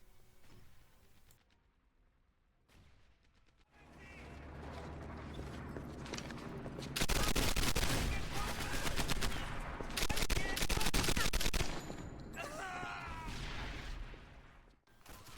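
Gunfire in the video game Medal of Honor Airborne: quiet mechanical clicks and creaks, then loud bursts of rapid automatic fire with heavy rattling that pause and resume, fading toward the end.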